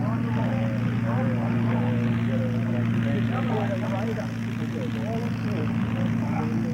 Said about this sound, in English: Next Mustang touching down